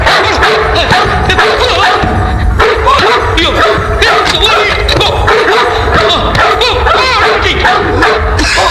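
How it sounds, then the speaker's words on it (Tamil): A dog barks inside a house during a Tamil movie scene, repeated yips and barks sounding over a loud, dense mix of music and background noise, with voices speaking. "நாய் வந்திருக்கு வீட்டுக்குள்ள"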